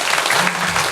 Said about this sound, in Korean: 앞으로 더 열심히 반주하라고 격려의 박수 드리겠습니다.